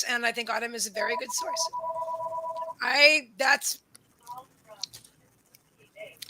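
A house phone rings with a steady electronic two-tone trill over a woman's ongoing speech, then the ringing stops as her talk continues.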